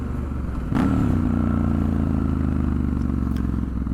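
A Triumph Scrambler 1200 XE motorcycle engine rumbles steadily up close, with a deep throaty idle that swells into a louder burst of revving partway through and then holds a rough, constant drone.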